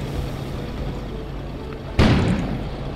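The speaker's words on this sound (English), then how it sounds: "An explosion suddenly occurred outside." In the video game Kona, a transformer blows up outside: a sudden single muffled boom bursts over a low steady hum, then rumbles and decays over about a second.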